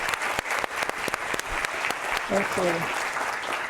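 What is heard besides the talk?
audience round of applause for scholars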